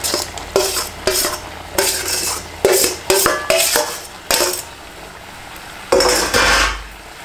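A spoon or spatula stirs fried mango and mango ginger into pickle in a metal pan, giving repeated short scraping clatters in irregular bursts, close up with a faint sizzle between.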